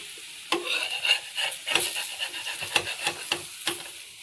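Horse gram flour pithla is roasted in a pan with a spatula scraping and stirring in repeated rhythmic strokes, each scrape over a soft, light sizzle, close and fairly quiet.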